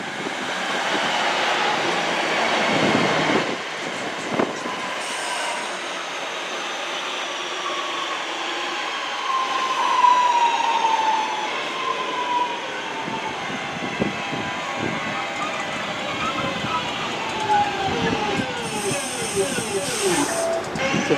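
Class 323 electric multiple unit 323214 passes Gravelly Hill station on the Cross City line, a loud rolling rumble with rising and falling whine and hiss that swells and fades as the train goes by, with voices faintly under it.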